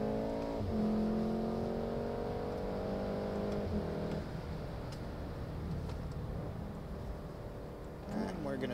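A 2019 Volkswagen Golf R MK7.5 is held in gear and accelerates around a corner. The engine drone is loud and steady from inside the car, and its pitch climbs and shifts a couple of times.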